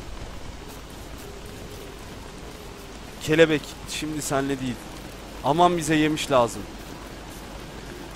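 Steady soft rain falls in the video game Don't Starve, a faint continuous hiss running beneath someone speaking.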